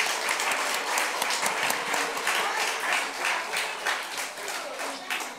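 A church congregation at a Wednesday prayer service gives steady, dense applause to welcome fifteen children, the clapping holding even and loud throughout.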